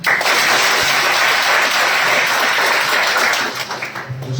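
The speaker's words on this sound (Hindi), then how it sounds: "तो इसके लिए तालियां" A classroom of students claps together in dense, steady applause, loud and close, thinning slightly near the end.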